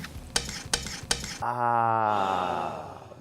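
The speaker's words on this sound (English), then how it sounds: "Metal spoon on the saucepan is wacky, bro." A metal spoon stirs grits in a saucepan, with three sharp clinks against the pan followed by a sustained scraping, sizzling stir, close and loud with no talk.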